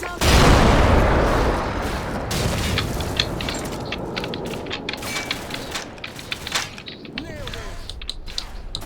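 Artillery fire and explosions in the Call of Duty: Modern Warfare video game: a loud booming blast at the start rolls into sustained rumble, with scattered sharper cracks and mechanical clanks after it.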